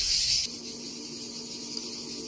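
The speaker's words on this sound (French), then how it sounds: "Et les cigales, c'est super chiant." Cicadas drone outdoors in a steady, loud, high buzzing chorus that drops slightly in level after the first half second and carries on without talking.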